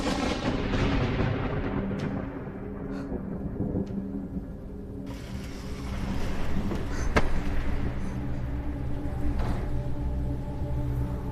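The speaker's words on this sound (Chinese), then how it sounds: "总是打雷下雨" Thunder rumbles heavily through a steady rain in a period drama scene, a dense low roar with sharper cracks now and then, loud and continuous with no talking.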